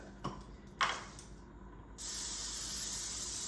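A couple of short clicks, then a steady hissing spray of cooking oil begins and continues close by.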